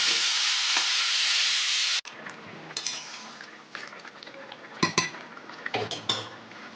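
Prawns sizzle steadily in a hot pan, then a spatula scrapes and clinks against metal as the frying continues more quietly.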